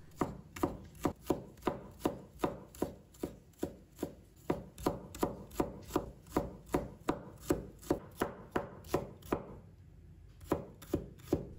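Knife chopping shallots on a board, a steady rhythm of crisp close cuts, roughly two per second, briefly pausing near the end.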